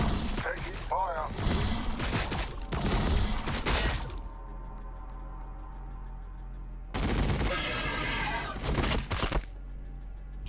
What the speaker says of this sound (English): We're taking fire.